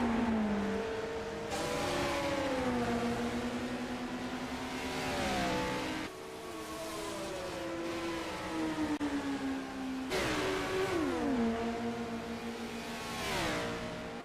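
Formula B open-wheel race cars at Spa-Francorchamps, loud engines howling and rising in pitch through the gears, with sharp shifts and overlapping cars blending into a continuous close roar.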